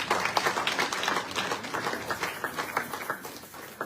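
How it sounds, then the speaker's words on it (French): Church congregation applauding, brisk uneven clapping from many hands, loud and close, lasting several seconds and slowly thinning toward the end. "Acclamons pour la gloire de Dieu."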